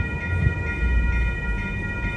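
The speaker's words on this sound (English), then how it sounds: "This is 729. Amtrak Capital Quarter train to" Amtrak Capitol Corridor passenger train 729 rolls past at 98th Ave in Oakland, California, a steady loud rumble of wheels and cars with a sustained high ringing tone, close by and continuous with no talk.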